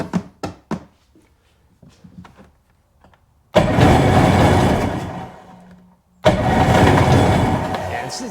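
A Sea-Doo GTX/GSX personal watercraft engine with a fuel delivery fault cranks hard in two long, loud bursts without catching. Brief thumps and faint handling noises come between them, and no one talks.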